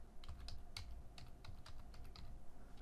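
Code being typed on a computer keyboard, a quick irregular run of soft key clicks heard close and alone.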